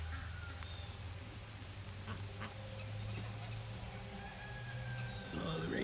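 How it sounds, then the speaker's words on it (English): Steady rain falls outdoors where ducks, geese and roosters range, a constant soft hiss with faint, scattered bird calls in the background. "Oh, the rain's picking up."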